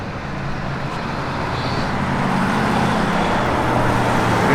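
Steady roadway traffic rumbles by a roadside where a 1970 Buick GS Stage 1 is parked, a continuous broad wash of passing cars and heavier vehicles that swells slightly louder toward the end, with no voices.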